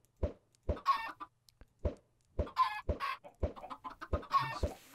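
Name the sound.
chickens clucking in Minecraft video game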